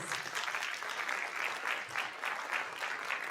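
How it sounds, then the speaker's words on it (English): Audience applause for students at a school district's State of Our Schools event, a steady wash of many hands clapping at moderate level for a few seconds. "let's give our students a round of applause"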